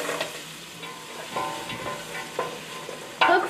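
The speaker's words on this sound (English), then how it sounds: "Keep stirring to make sure it doesn't burn." Vegetables are stirred into a thick cream sauce in a pot for a squirrel pot pie, giving soft irregular scraping and bubbling, close and moderate, with a sharper clank near the end and no talking.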